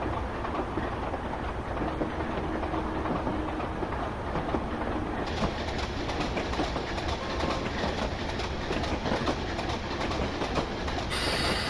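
A Class 25 diesel train runs on the Buchan Line from Aberdeen in Train Simulator Classic, with a continuous loud rumble and rhythmic clickety-clack of wagons and no talking.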